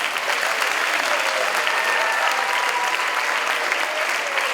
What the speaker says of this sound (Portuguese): professora Cristina e do professor Eurico, para quem eu peço uma salva de palmas.